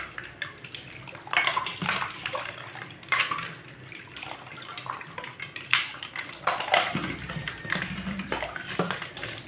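Mango juice is stirred in a container, with liquid sloshing and a spoon clinking against the sides in quick irregular bursts, close and fairly quiet.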